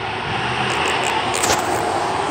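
A car passes close by with a broad, loud whooshing roar that swells around the middle and holds for a couple of seconds, with no one talking.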